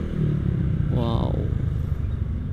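A Honda Vario LED scooter engine droning steadily with a brief rising whine in the middle, heard from up close amid loud road and wind rumble.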